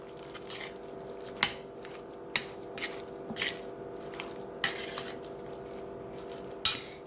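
Hashbrown casserole ingredients mixed in a dish, with irregular clinks and scrapes of a utensil against the dish over soft squishy stirring and a steady background hum, close and without talk.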